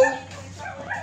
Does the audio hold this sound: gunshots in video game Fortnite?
no